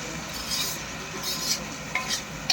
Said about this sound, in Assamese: চব্জিটো ভাজি আছোঁ